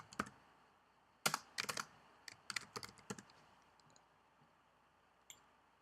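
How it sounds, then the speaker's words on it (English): Short bursts of quick clicking keystrokes on a computer keyboard as a name is typed, close and fairly quiet, with pauses between clusters and a final lone tap. "we're going to type in their name"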